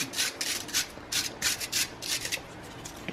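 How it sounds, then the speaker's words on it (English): A wire brush scrubs rust and corrosion off a rear brake caliper carrier on a 2013-2017 Mazda CX-5, close, quick rhythmic rasping strokes in short bursts with brief pauses between. "Now take a wire brush, and on the carrier here,"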